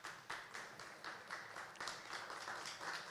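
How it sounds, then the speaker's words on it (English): A conference audience at Sovereign Day in Buenos Aires applauds, steady clapping from many hands heard faintly and at a distance, with no talk over it. "Big applause, please."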